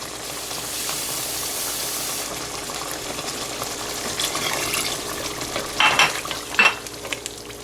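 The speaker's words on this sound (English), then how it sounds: "So we're just going to add a little bit of more water so this doesn't dry out." Water poured into a pot of goat curry as it cooks, giving a soft hiss and gentle sizzle with stirring, then two brief louder splashes near the end, with no talk.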